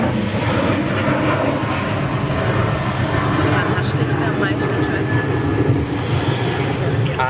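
An airliner lands at Zurich airport, its continuous loud engine roar filling the air while people chat nearby.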